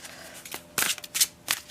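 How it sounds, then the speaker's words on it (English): A large tarot deck being shuffled by hand, with a few crisp riffling bursts of card noise close up and no talking. "All right, so let's see how this deck shuffles."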